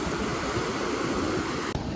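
Waves wash onto the sand at Chirala beach in a steady, broad rushing roar that blends with wind noise, with no voices.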